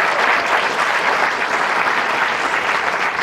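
An audience at a county address applauds the new county clerk with a full, steady wash of clapping, loud and unbroken throughout, with no voices heard.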